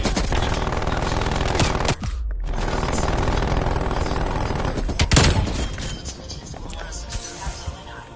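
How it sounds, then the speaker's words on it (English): An enemy sentry turret in Black Ops Cold War fires in long, dense automatic bursts, a continuous loud rattle of gunfire with a brief gap, mixed with other game noise and voices talking over it. "Hostile sentry turret active"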